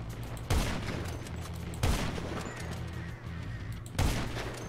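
Gunfire in GTA 5 Online: three sharp, loud shot bursts spaced roughly evenly apart over a constant background hum of game sound, with no talk.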